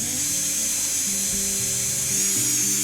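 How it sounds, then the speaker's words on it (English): A small drill bit whirs through scrap wood at a steady, high-pitched whine, running continuously and close by with slight shifts in pitch as it bites in. "With this drill bit being so small, I'm literally just letting the weight of the drill push the bit through."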